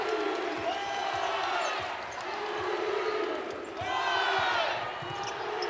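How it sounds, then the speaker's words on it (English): A women's college basketball crowd at Humphrey Coliseum, Mississippi State against Georgia, roars in swelling waves of cheering beneath a play-by-play announcer, with sneaker squeaks and ball bounces from the court mixed in. "Crowd coming alive here at Humphrey Coliseum."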